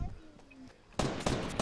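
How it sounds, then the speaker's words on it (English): A rapid burst of gunfire in the Fortnite video game crackles loudly in the second half, several sharp cracks in quick succession after a quieter stretch of game ambience. "I think the flying orc is trying to shoot us. Oh, I see gunshots."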